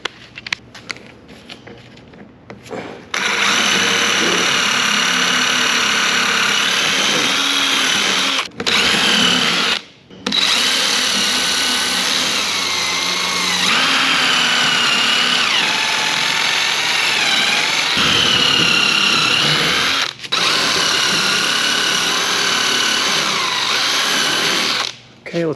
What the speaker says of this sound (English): All right, so let's drill some holes.